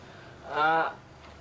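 A goat outdoors lets out one short, strained bleat at moderate distance, rising briefly above a quiet background hiss.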